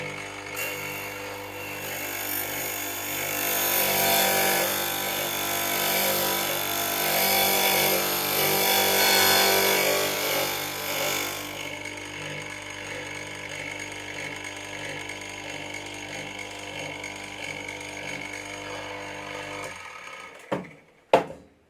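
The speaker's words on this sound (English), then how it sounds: "I'm going to start up the cutter." A key cutting machine cutting a key, a loud high-pitched grinding whine that eases in intensity partway through, running steadily, then stopping, followed by a few sharp clicks and clacks at the end.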